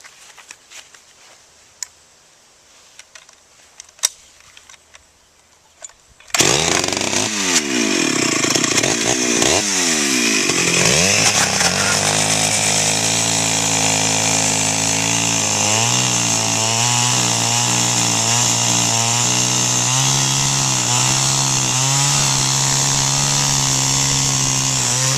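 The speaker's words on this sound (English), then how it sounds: "Roughing out the pieces of wood with the chainsaw to get it down to some size pieces" A chainsaw roughs out pieces of white oak with rotten spots, starting abruptly after a few quiet seconds of small knocks and then roaring loudly and steadily, close by, for the rest of the stretch with slight pitch changes under load.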